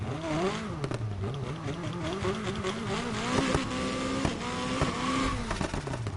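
An all-wheel-drive car engine revs up and down repeatedly, its pitch rising and falling in rough surges, close and fairly loud with no talking.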